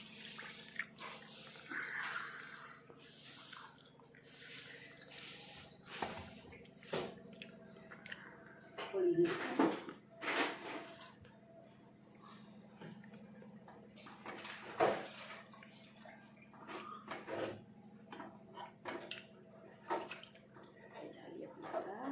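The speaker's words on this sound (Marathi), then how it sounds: "जसा रस्सा पाणी आपल्याला लागेल तसं आपण टाकून घ्यायचं" Water is added to a spicy traditional village curry of snake-like wambat fish to make the gravy: quiet splashes and drips, with scattered clinks and a voice talking.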